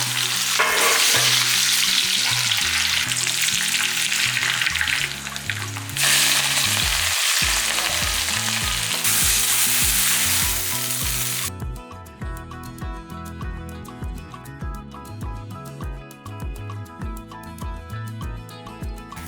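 Leftover ingredients frying in hot oil for sambar rice, a loud steady sizzle with stirring; the crackle drops away about two-thirds through, leaving quieter kitchen clatter and scraping.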